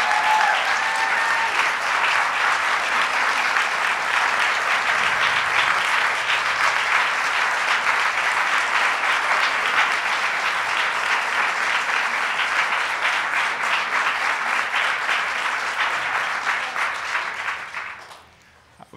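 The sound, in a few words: audience applause for Sarah Weddington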